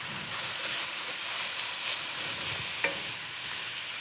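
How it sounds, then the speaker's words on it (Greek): Chopped pepper, onion and mushrooms sauté in a pan, producing a steady soft sizzle with a faint stir or clink partway through, no voices. "Μόλις μαλακώσουν η πιπεριά και το κρεμμύδι, προσθέτω τα μανιτάρια,"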